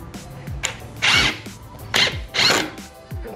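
A power drill drives screws into a DIY removable-top bedroom side table in several short whirring bursts, each with a quick rising pitch, close by with no talk.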